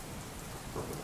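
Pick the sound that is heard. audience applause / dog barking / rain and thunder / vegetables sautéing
rain and thunder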